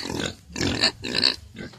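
A pig on a farm gives a series of three or four close, loud grunts and snorts in quick succession, with no talk.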